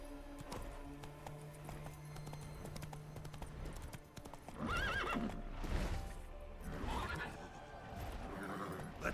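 Roach, a horse in The Witcher 3 game, whinnies twice amid clip-clopping hooves, the neighs rising loud over a busy background of game music and ambience.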